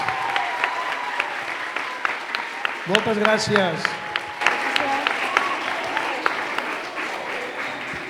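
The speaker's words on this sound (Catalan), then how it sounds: "un aplaudiment per ells." Steady applause for the children of a children's council in El Masnou, a dense field of clapping that runs throughout, with a brief spoken thank-you over it partway through.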